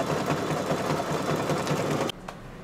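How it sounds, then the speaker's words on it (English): A computerized embroidery machine hammers out heavy satin stitching around appliquéd fabric shelves on a quilt block, a fast steady mechanical chatter that runs continuously and stops abruptly near the end. "here's the heavy satin stitching for all around the outside of the fabric shelves"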